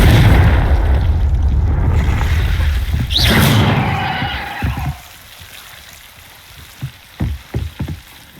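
A Confringo blasting spell detonates in the Hogwarts Legacy video game, a loud booming burst with a rising whoosh over a dense rumble that fades to quiet, followed by a few sharp thuds.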